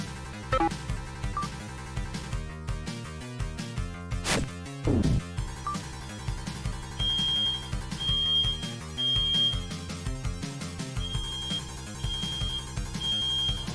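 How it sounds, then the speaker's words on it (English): A household fire alarm sounds in repeated high beeps under video game music and thumping game effects from Dungeons & Dragons Warriors of the Eternal Sun. "Fire alarm going off, so I'm going to cut the recording."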